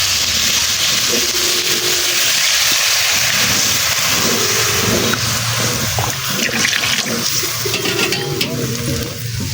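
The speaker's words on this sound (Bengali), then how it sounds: "বাটা মশলাগুলো এখন দিয়ে দিব অল্প পরিমাণে একটু পানি" A little water poured onto spice paste frying with garlic and onions in a village-style kitchen produces a loud, continuous rushing sizzle that fills the whole stretch.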